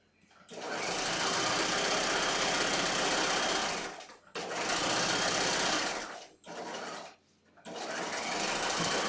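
A sewing machine stitches bias facing onto a hem in several loud, close runs of fast whirring needle clatter, separated by brief pauses.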